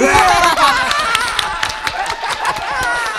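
Studio audience at a televised anniversary celebration show clapping, scattered sharp claps under ongoing chatter and voices, moderately loud and uneven.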